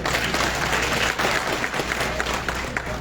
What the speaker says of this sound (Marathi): आपण असं टाळ्याचा गजर करू त्याला विनंती आपण करतो